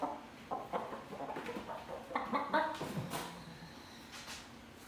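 A chicken being treated for a bacterial respiratory infection makes a series of short, soft clucks up close, while a person talks softly nearby.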